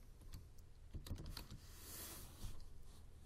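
Quick, light keystrokes on a computer keyboard while entering text into an Excel cell, a fairly steady run of clicks close to the mic with a brief louder burst of taps near the end.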